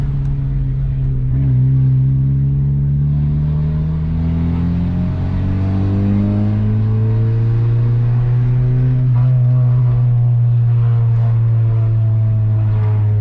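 A 10th-generation Honda Civic Si fitted with an AWE Tuning track exhaust drones loudly and close, its low engine note climbing and falling through steady throttle changes, with no talking.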